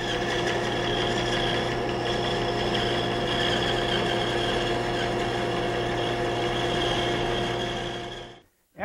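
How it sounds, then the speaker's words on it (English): Bandsaw cutting out wooden chest-of-drawers leg shapes in a woodshop, a steady high motor whine with hum running continuously at moderate level, then cutting off abruptly near the end. "Now I'll go ahead at the bandsaw and cut out the 2 shapes"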